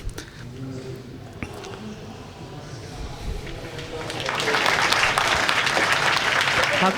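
A mission control room erupts in applause during the Hayabusa2 spacecraft's second touchdown, the clapping swelling from a low murmur into a loud, sustained round while voices talk over it.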